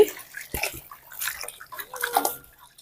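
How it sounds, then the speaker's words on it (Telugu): Close water sloshing and splashing in a bowl, in short uneven bursts as gongura leaves are rinsed by hand. "గోంగూర కూడా కడిగి"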